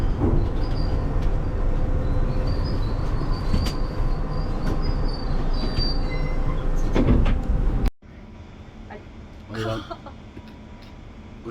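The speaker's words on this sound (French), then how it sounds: "On est dans le train pour Watford" Passenger train bound for Watford rolling along the rails, a steady loud rumble with rattling carriage noise for about eight seconds, then dropping abruptly to a quieter interior hum with a brief clatter near the end.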